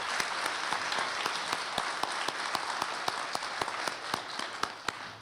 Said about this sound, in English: Can we get a round of applause for our wonderful trio